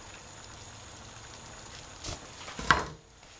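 Soft, steady sizzling of food in a hot pan, with a couple of brief louder spatters near the end.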